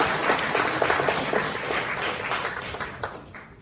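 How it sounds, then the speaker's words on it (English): A conference audience at a startup pitch day applauds the team with steady, dense clapping that holds at full strength for several seconds and eases slightly toward the end; no talking over it. "So I get a round of applause for the team."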